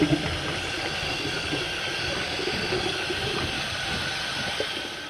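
Dry beans are rinsed under running kitchen tap water, a steady rushing splash that holds at an even, fairly loud level from start to finish.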